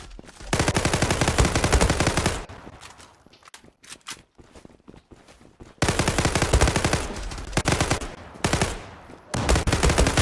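FN FAL Pro rifle fire rings out in the online shooter Zula in rapid, loud automatic bursts. A long string of shots is followed by a quieter gap with scattered sounds, and then more sustained bursts.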